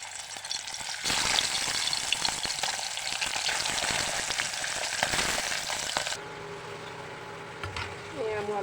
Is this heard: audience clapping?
no